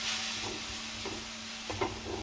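Tomatoes frying in a pan for chicken sukka, a steady soft sizzle with a few light scraping stirs of a spoon.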